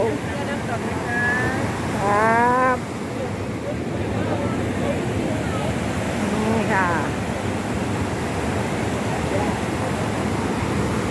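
A steady, broad roar of falling water at Niagara Falls fills the scene, with people talking over it throughout.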